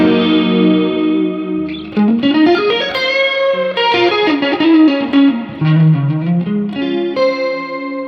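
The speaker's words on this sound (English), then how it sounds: "this is my chorus reverb, one of my favorite sounds" Electric guitar played through a Strymon Iridium with chorus and reverb: loud, shimmering sustained chords and sliding notes with a wide, warbling wash that rings out between phrases.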